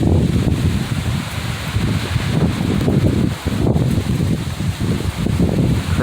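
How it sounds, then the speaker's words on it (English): Powerful summer microburst wind in Utah roars and rustles through leaves, pounding the microphone in continuous loud gusts that dip only briefly. "Here's one of them summer Utah microburst storms."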